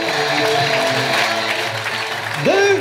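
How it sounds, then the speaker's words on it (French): A crowd applauds steadily with dense clapping for fishing competition champions, while an announcer speaking French carries over it. "On les applaudit, nos champions!"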